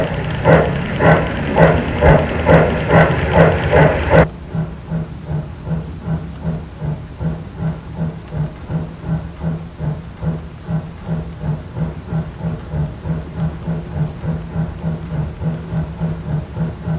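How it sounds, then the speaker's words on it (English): A model railway train runs on its track, loud at first, then settling into a steady, rhythmic clatter of wheels over rail joints that repeats at an even pace until the end. "And now it's time to run some trains."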